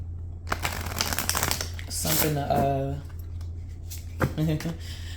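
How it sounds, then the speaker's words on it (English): A deck of cards being shuffled in a quiet indoor space, a quick run of crisp riffling clicks with a speaking voice heard over the shuffle. "All right, one more shuffle."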